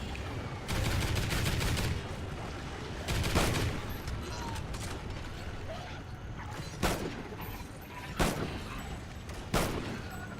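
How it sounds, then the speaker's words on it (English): Bursts of gunfire with explosive ammo in Call of Duty: Ghosts Extinction, a long loud volley followed by shorter bursts and scattered single shots, close and punchy over a busy rumbling background. "This explosive ammo is really working really well."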